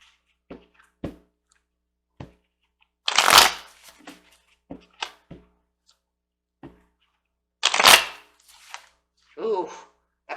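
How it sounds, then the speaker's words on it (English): Tarot cards being shuffled by hand, with short riffling bursts, soft taps and two louder flurries as cards spill out, close up and mostly without speech. "got a lot of cards falling out over here"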